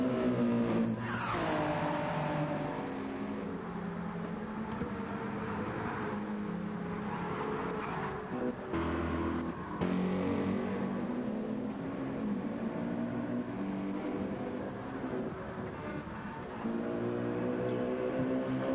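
Hypercar and GTE race cars in Gran Turismo 7's Le Mans 24 hours race roar continuously with revving engines, shifting pitch and brief tire squeal, loud and unbroken with no talk.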